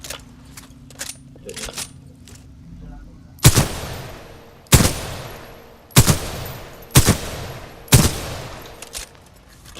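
Gunfire from the Titanfall 2 video game: after some light clatter, five loud, evenly spaced gunshots crack out about a second apart, each with a short decaying tail.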